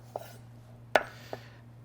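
A kitchen knife chopping an onion on a cutting board, three sharp, isolated knocks with a louder one in the middle, close and clear over a faint steady hum.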